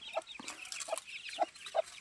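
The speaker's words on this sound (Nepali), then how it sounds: "कुखुरा तर्सी हेर्नु न, चढ्दैछ, कुचिकुची गरेर चढ्दैछन्।" Chickens clucking at a small village house on a hillside trail, four short clucks spaced evenly and close by, over faint outdoor background noise.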